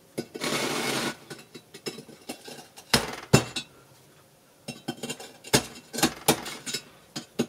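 A steel chisel is struck into a DIY glass-fusing kiln wall to cut a V-shaped slot for the heating element, giving sharp, clanking metallic whacks in irregular bursts, close and fairly loud, with no voices.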